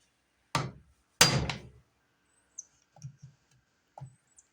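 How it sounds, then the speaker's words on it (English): On a 2008 Saturn Vue valve cover, a hammer drives a screwdriver to knock out the seal: two sharp, loud knocks about half a second apart, then a scatter of faint small taps and clicks. "you hit the bottom lip with the screwdriver and hammer"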